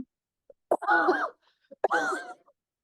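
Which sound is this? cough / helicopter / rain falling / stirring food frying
cough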